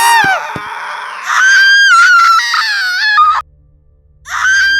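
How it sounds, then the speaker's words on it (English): A woman in labor screams and wails in long, anguished cries that rise and fall, breaking off into a brief low rumble before another loud scream, in an animated series. "As the growing screams reach her ears"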